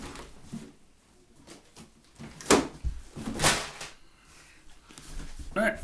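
Someone rummages through a household drawer hunting for a book, with wooden sliding and knocking, thumps and shuffling, plus a couple of louder bumps amid the searching.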